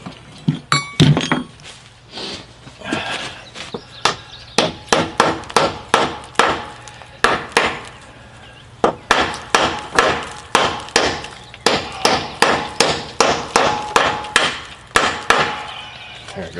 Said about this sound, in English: Brass hammer again.